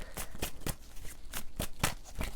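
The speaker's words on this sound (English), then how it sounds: "let me just shuffle a little bit more" A deck of tarot cards is shuffled close up in a quick, rhythmic series of crisp riffling bursts, about three per second, with no talking.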